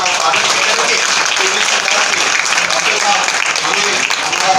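Warm applause welcoming a doctor at a municipal appointment ceremony for daily-wage workers, a dense, continuous sheet of clapping from a large gathering, loud and even throughout.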